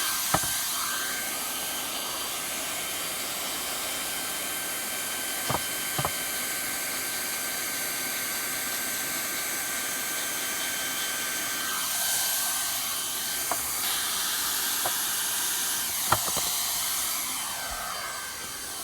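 Hot air welder fusing TPO roofing membrane, a steady close blower whine with a thin constant tone, a few faint clicks and knocks on top.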